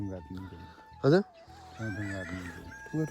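A chicken clucks in short, repeated bursts close to the microphone, with one sharper squawk, while people talk quietly nearby.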